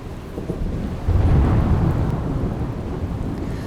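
Heavy monsoon rain pours in Surat, Gujarat, a dense continuous roar, while deep thunder swells and rumbles through the middle and slowly fades.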